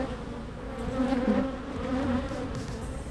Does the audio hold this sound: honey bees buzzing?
yes